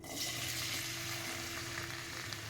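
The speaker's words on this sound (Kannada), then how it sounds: "ಈರುಳ್ಳಿನ ಗೋಲ್ಡನ್ ಕಲರ್ ಆಗೋ ತನಕ ಹುರಿದುಕೊಳ್ಳೋಣ." Onions fry in hot oil in a pan, a dense, steady sizzle that stays close and even throughout with no pauses, with no one talking.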